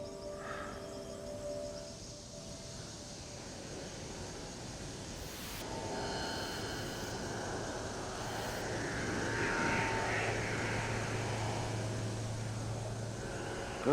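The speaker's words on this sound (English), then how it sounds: "Suddenly, this airplane flew out over the top of us, quite high." A high airplane drones steadily overhead, its engine hum swelling gently and lingering against a quiet outdoor background in the African bush.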